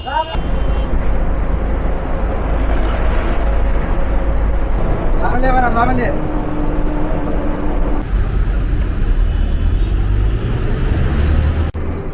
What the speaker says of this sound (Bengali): আমাদের বাস চলে আসছে বহুমুখী যমুনা সেতু